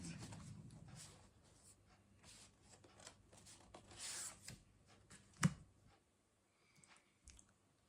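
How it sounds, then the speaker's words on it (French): Tarot cards drawn and laid out on a table: soft, quiet papery slides, rubs and light taps in an uneven rhythm, with one sharper slap of a card near the end and brief lulls between. "Je vais tirer d'autres cartes."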